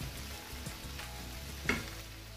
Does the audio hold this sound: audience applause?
no